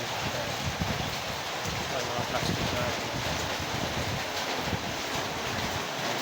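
Heavy rain pours outdoors over a scrap yard in a dense, steady roar with wind-like rumble, continuing throughout while someone talks over it.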